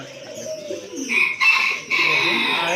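Male pigeon cooing in a pigeon and poultry sale setting, a few soft repeated coos rising and falling close by amid bright background chatter and bird noise.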